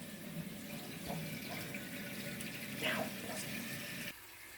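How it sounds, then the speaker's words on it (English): Tap water runs steadily into a cooking pot for spaghetti, a close, even rushing stream that stops near the end. "First step you need to do is to fill your pot."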